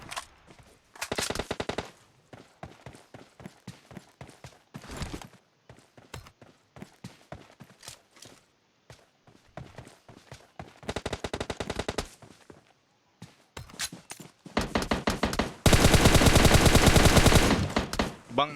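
Gunfire in a PUBG Mobile online tournament match: scattered single shots and short bursts crack in quick succession, with near-silent gaps between volleys, ending in a long, loud, unbroken stream of automatic fire.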